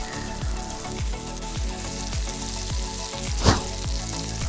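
Shrimp stir-fried in a pan for Hong Kong-style Yangzhou fried rice: a continuous close sizzle with regular low thumps as the pan is tossed, and one sharp, louder hiss partway through.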